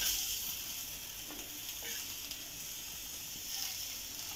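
Chopped onion dropped onto a preheated tawa griddle, a steady close frying sizzle with faint stirring scrapes, continuous and even throughout, no voices.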